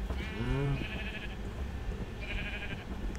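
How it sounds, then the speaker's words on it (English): A sheep in a survival video game gives a short wavering bleat, followed by a couple of thinner, higher bleats over a steady background ambience. "Get out of here, sheep."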